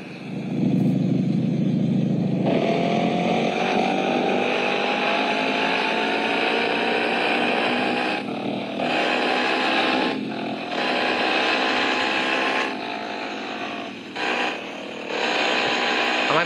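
A motorbike engine in the Indian Bikes Driving 3D video game drones loudly and continuously, revving with rising pitch and dipping briefly a few times as throttle drops.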